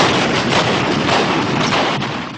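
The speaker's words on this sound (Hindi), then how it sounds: "मेजर अजीज भट्टी के हुक्म पर पाकिस्तानी तोपों ने फायर किए" Pakistani artillery guns firing a round in a 1965 war battle scene at a bridge, heard as a dense, loud continuous roar of blasts and rumble filling the whole stretch with no voices.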